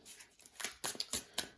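Several soft, quick riffles of a card deck being shuffled during a reading, faint and close, in short bursts with brief pauses between.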